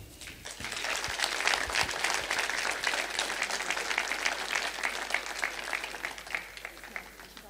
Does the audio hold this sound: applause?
yes